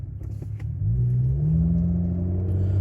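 Cadillac with an LF4/LF3 twin-turbo V6 running while driving: a loud, close engine drone that rises in pitch as the car accelerates, then holds a steady rumbling tone, no talking.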